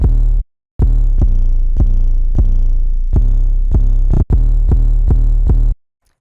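A trap beat built in FL Studio, its faster section driven by loud, booming 808 bass hits in a quick, uneven rhythm, with two brief silent gaps and a cut to silence at the end.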